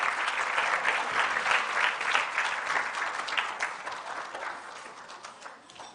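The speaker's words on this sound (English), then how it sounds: "Big round of applause for yourselves." Audience applause at a swimming symposium, a steady dense wash of clapping from a sizeable crowd that holds for several seconds and then slowly thins and fades.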